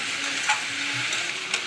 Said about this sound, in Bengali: শুকনো লঙ্কাটা, কালো জিরেটা, তেজপাতাটা ভাজা ভাজা হয়ে এসছে, তখন লাউটা দিয়ে দিয়েছি।